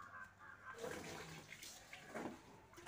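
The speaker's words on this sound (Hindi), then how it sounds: "आलू को 2-3 बार में धो लेंगे" Potatoes are washed by hand in a vessel of water, making irregular swishing and splashing sounds that rise and fall close by, with no talking.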